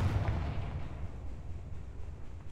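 In the game Hogwarts Legacy, a Confringo spell blast lands as a deep, booming explosion that hits hard at once and then fades into a low rumble.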